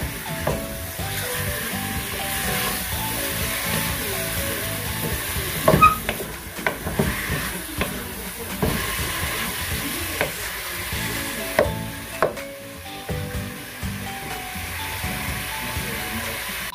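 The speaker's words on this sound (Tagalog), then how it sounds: "Lagyan na natin ang beef. So, luto natin hanggang sa maging brown." Beef browning in a pan for Filipino beef mechado: a steady, moderate sizzle runs throughout, broken by scattered clinks and scrapes of stirring.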